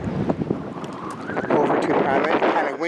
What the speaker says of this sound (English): It's kind of windy right here, so I'll do my best to speak up over the wind.